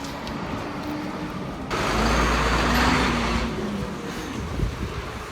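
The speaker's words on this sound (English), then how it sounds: "there's a truck" A truck passing in an alley makes a loud, broad engine rumble that swells suddenly and holds for a couple of seconds before fading back into steady background noise.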